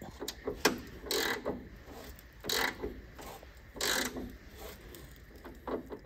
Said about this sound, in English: Now, hopefully the temperature has broken this bolt free.